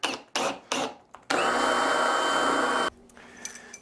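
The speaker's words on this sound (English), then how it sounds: "I'm using a 7/8 inch Forstner bit, which is a fair bit bigger than the barrel bolt." A power drill boring into construction lumber with a 7/8 inch Forstner bit: three short bursts followed by one longer sustained run, then a few lighter scraping sounds as it stops.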